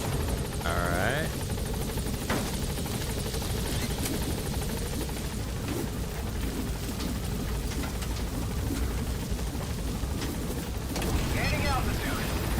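Helicopter in the Metal Gear Solid V video game, a steady loud rotor and engine drone running throughout at constant level, with brief radio-style voice chatter over it near the start and end.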